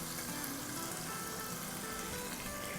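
Tomato puree sizzles and fries steadily in hot biryani masala in a cooking pot, a constant close crackling hiss with no talking.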